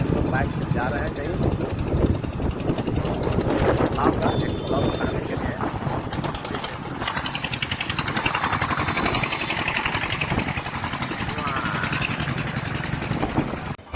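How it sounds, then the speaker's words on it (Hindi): A motorcycle rides along a road toward a temple in Morwa block, Samastipur district, Bihar, with a steady engine drone and wind rumble running throughout and a person talking over it. "बाइक से जा रहे हैं कहीं"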